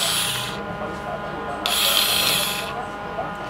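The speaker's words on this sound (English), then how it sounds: "This is a screwdriver cordless." A Tuoye cordless screwdriver runs in steady bursts, a whirring motor with a high gear whine that rises in a second burst, close and fairly loud with no voice.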